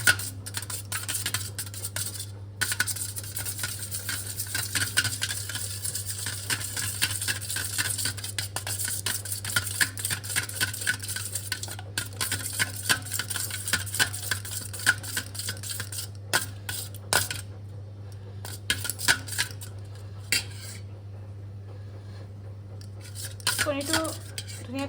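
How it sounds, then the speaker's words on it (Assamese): Two eggs with salt are whisked in a bowl, a steady stream of quick clinking and scraping of utensil against the bowl running close and continuous, with a low hum underneath. "কণীটো ধুনীয়াকৈ মিক্স হৈ গৈছে"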